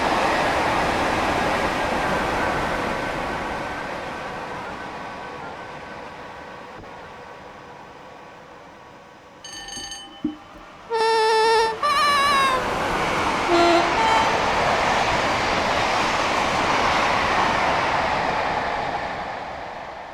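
A Class 86 electric locomotive on the West Coast Main Line near Preston, in Train Sim World, sweeps past with a rising and fading roar, with brief tonal chirps and whines near the middle.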